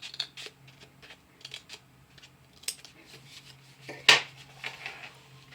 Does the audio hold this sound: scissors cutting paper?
yes